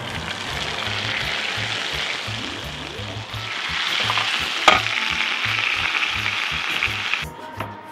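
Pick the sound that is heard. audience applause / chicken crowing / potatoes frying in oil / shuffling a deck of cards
potatoes frying in oil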